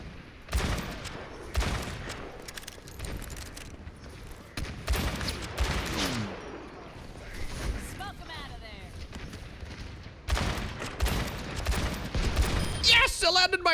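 Gunfire in the Overwatch video game, including shotgun blasts, in sharp loud bursts of rapid shots separated by brief lulls, with a player talking excitedly over the action.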